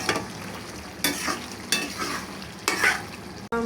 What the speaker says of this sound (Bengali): কলিজাটা সেদ্ধ হয়ে যাওয়ার পর আমি এখানে ভালোভাবে শুকিয়ে বুনা করে নেব